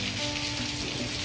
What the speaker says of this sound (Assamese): ইমানে বৰষুণ চাকি দিবলৈ জেগা নোহোৱা হৈ গ'ল